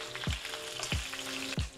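Food sizzles and fries in a hot pan as it chars, a dense steady crackle close by, with three soft low thumps spaced evenly through it and no voices.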